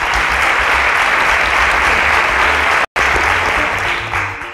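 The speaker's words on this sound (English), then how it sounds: "A round of applause for them," Loud, dense applause from a live audience at a televised science competition, clapping for the sponsors in a continuous heavy wash, broken once by a brief cut before fading slightly toward the end.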